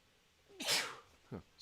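One sharp, loud sneeze bursts out, followed by a short breathy sound, in an otherwise quiet room.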